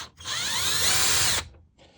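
Electric screwdriver whirs loudly and steadily for just over a second while backing screws out of a Xiaomi electric scooter dashboard, then cuts off abruptly.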